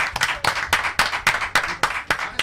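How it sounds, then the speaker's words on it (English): Audience at a Christmas magic show claps in a steady, moderately loud round of applause, individual claps distinct and fairly close, with no talking over it. "Give a round of applause."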